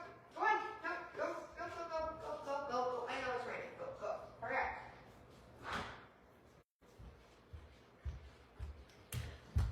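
Dogs waiting to be let out give a run of sharp close barks and whiny yips, with door and drawer clatter breaking in, and a person speaks over parts of it.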